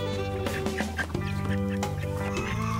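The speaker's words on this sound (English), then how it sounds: "Thanks to Azili, the salmon Faverol chicks make it safely to their new home." Salmon Faverolle chickens cluck and chirp, with a steady tonal drone running beneath the calls throughout.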